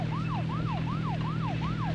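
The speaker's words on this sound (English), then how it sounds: "sprinting with the siren on actually does use up your sprint meter" A police car siren in the video game Deadly Premonition Origins repeats a fast up-and-down wail about five times in two seconds over a steady engine hum, loud and continuous with no talking.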